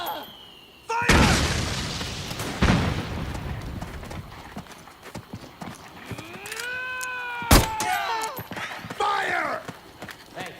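Gunfire and explosions from Metal Gear Solid 4 break out in sharp booms and bursts of shots, with sweeping whines and clatter in between and voices shouting under the combat.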